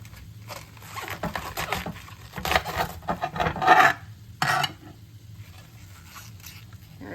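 A knife scrapes and rasps through a sweet cabbage, cutting it into thick slices, close up, in a series of uneven strokes followed by a quiet stretch.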